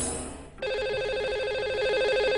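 An outgoing call from a studio to a caller rings on a telephone line, a loud and steady warbling ring that starts after a brief quiet pause and continues alone.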